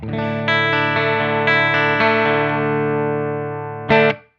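An electric guitar in a clean tone rings out through a stereo Mimic pedal, sustained chords fading slowly, then a final strummed chord cut off abruptly.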